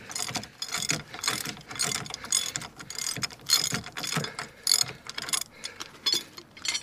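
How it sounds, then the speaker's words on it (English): A ratchet wrench clicks in rapid bursts, undoing a 27mm bottom ball joint nut on an Iveco Daily camper van's front suspension. The close, loud clicking comes in repeated strokes with brief pauses and no speech. "starting out at the bottom ball joint, 27mm nuts, undo that one."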